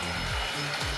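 A Dreame V11 cordless vacuum cleaner with its carpet brush runs as a loud, close, steady whirring motor drone, with faint pitch shifts as the brush moves over a rug.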